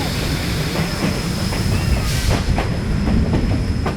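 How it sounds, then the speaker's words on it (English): A heritage railway train, steam and streamliner, rumbles steadily along the rails with rhythmic clacking wheels and a faint squeal, loud and close throughout. "Then the train neared the first big feature of the line"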